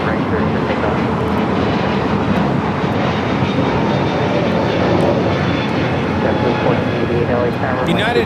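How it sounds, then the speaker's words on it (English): A United Airlines Airbus A321neo jet takes off from LAX bound for Denver, its engines giving a loud, steady, broadband roar that fills the whole stretch. "1023 taking off to Denver, Colorado on the A321 Neo"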